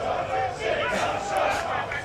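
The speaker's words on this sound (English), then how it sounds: "You can hear it in the crowd of Cardiff Met." Spectators at a university rugby league match on the Cardiff Met campus make a rising crowd roar with shouts, heard briefly under commentary voices.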